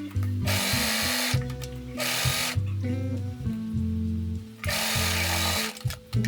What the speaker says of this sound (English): Then I sewed the side seams to attach the front to the back skirt.